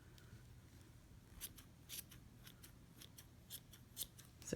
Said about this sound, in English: And we're just going to trim this up until it looks like the nice little ball that we want to use.